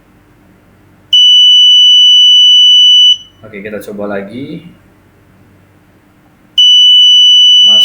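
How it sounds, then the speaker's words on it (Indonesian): A motion sensor alarm blares a shrill, steady electronic tone for two seconds, cuts out while someone speaks briefly, then starts blaring again. "harusnya nggak bunyi alarm kalau diam ya"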